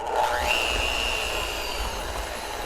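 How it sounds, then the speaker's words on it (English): An electric hand mixer whirs steadily as it beats cream cheese with powdered sugar for a chocolate stout cake, the motor rising in pitch as it gets going, then holding a constant, fairly loud drone without speech. "I'm just going to mix this a little bit, trying to get the cream cheese broken up a little bit with the sugar"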